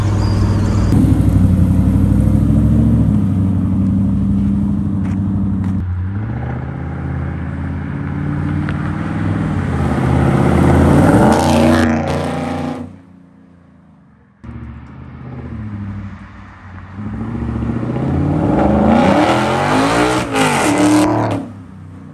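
A loud V8 Coyote engine in a Ford F100 pickup truck revs hard several times with a deep, rumbling exhaust note, dropping briefly to near silence before revving up again.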